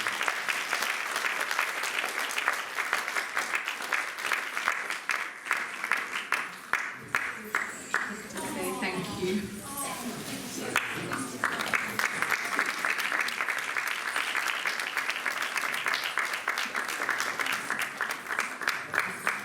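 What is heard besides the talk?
audience applause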